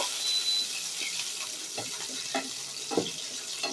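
Bay leaves and small cardamom pods frying in hot oil in a saucepan give a steady, moderate sizzle with occasional soft crackles and stirring scrapes, no voice heard.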